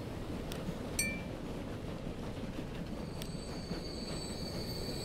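A train runs in the Transport Fever 2 game with a steady, continuous rumble of rolling wagons, a few sharp clinks and a drawn-out wheel squeal, and no voices.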